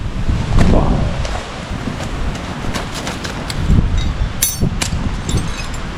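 Strong wind sweeps across a campsite in Yongdae-ri, South Korea, an area known for its wind farms. A loud, continuous buffeting roar with rumbling gusts hits the microphone for the whole stretch.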